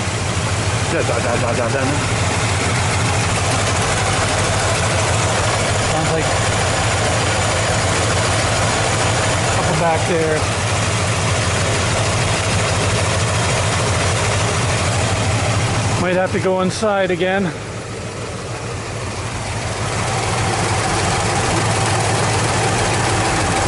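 A 1986 Chevy K10 engine fitted with 601 heads idles steadily and loud, with a light rocker clacking ticking through the rumble, and someone speaks briefly over it.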